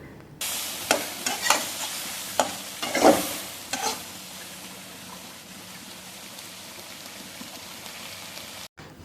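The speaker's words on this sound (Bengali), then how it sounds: "এবার সর্ষেটা দিয়ে ওই দু থেকে পাঁচ মিনিট মতো নাড়াচাড়া করে কিন্তু নামিয়ে দেবো" Okra cooked soft with mustard paste is stirred in a frying pan, a spatula scraping in several close, uneven strokes over a low sizzle, then the pan settles into a quieter hiss.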